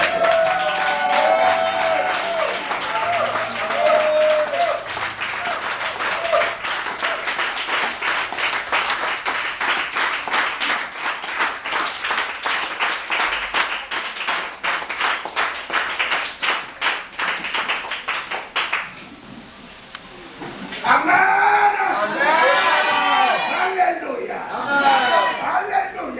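A church congregation claps in a fast, steady rhythm and cheers for Jesus during a prophetic preaching service, loud and sustained, then a brief lull before voices rise again in shouting and ululating cries.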